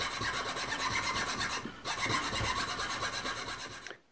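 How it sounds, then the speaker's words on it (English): A hand file rasps a small keyway into a shaft, a close, continuous gritty scraping with steady back-and-forth strokes and one brief pause midway. "I just filed a small keyway in here"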